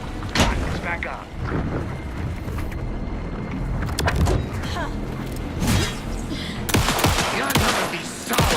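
Rapid bursts of gunfire crackle through a tense Alan Wake game scene, loud and close, with clustered volleys separated by short gaps and spoken dialogue mixed in beneath the shots.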